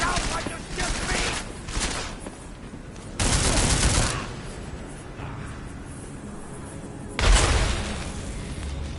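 Gunfire in the video game Deus Ex: Mankind Divided, several loud bursts of rapid shooting with booming impacts, separated by quieter stretches of game noise.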